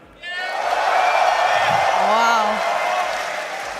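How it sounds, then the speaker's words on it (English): A stadium crowd at a Berlin Dota 2 finals event cheering for Team Liquid, a sustained loud roar and applause while a voice exclaims over it. "Who here is cheering for Team Liquid?"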